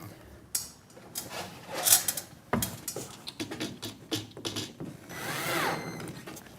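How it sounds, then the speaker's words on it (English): A screw on a slimline bay window curtain track's return bracket is tightened, giving short scraping and clicking bursts with handling knocks, close and moderately loud, with some brief talk around them. "And now we can tighten this screw up and the one on the return bracket and lock this track in position."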